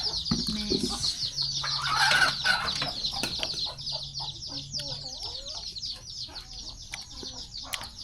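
Chickens cluck repeatedly at a rural Lao home, close and lively with some wing flapping, while people talk and call out in the background.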